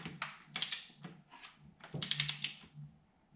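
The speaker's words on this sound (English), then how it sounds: "So now it's time to torque everything down." A torque wrench ratchets in short bursts of rapid clicking while top end bolts are tightened on a Honda CB550 motorcycle engine during a gasket replacement. The strokes are close and separated by brief pauses.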